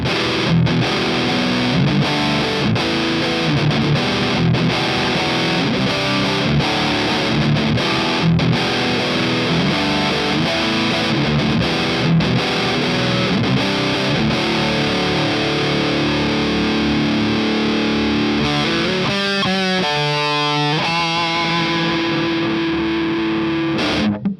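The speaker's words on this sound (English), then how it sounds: "the Dark Ages is a distortion pedal" Electric guitar through a Sunless Effects Dark Ages distortion pedal plays heavily distorted chords and riffs continuously and loudly, ending with a few sustained, ringing notes.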